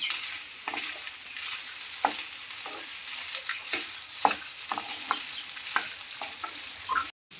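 Jowar breakfast mixture with salt is stirred in a pan, a steady soft frying sizzle broken by repeated scraping strokes of the spoon, alone with no voices, ending in a short silence.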